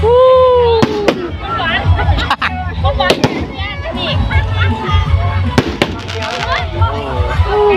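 A bang fai rocket launched at the Bun Pha Wet festival in Ban Phon Muang, heard as a loud, continuous fiery roar and crackle, with a shouting, cheering crowd and voices throughout.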